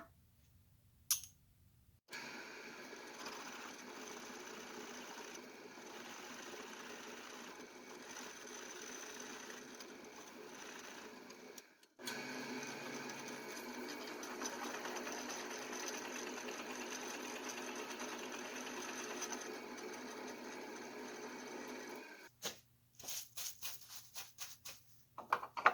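A drill press at 280 RPM drives a 2 3/8 inch Forstner bit into brass, giving a steady mechanical whine in two long stretches with a short pause between them and faint clicks at the end.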